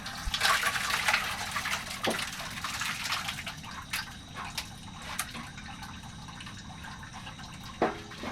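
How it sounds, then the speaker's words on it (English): Cheese whey pours and splashes from a pot through a strainer during butter and cheese making, with intermittent drips and clinks of the pot, no voices. "Still removing the cheese water."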